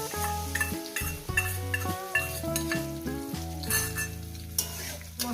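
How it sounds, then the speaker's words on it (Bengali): Ground ginger, turmeric, cumin and coriander paste stir-fried briefly in a pan for a bottle-gourd greens chorchori, with sizzling and spoon scrapes partly masked by melodic background music. "মশলাটা দেওয়ার পর আমি এটা 2 মিনিট একটু এইভাবে একটুখানি কষিয়ে নেব"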